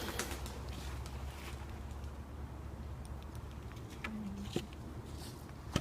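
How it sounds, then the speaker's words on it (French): Soft cooing from a pigeon or dove comes through faintly at a distance over steady outdoor background noise, with a few short calls standing out near the end. "Je pense que c'est un oiseau."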